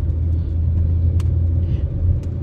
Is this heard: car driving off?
yes